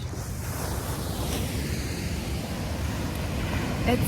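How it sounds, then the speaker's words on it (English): Waves break and wash ashore at a beach while wind buffets the microphone, a steady, close, rushing roar with no talk. "I'm back at the beach."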